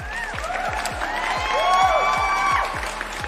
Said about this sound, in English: Gotta get some special claps for you.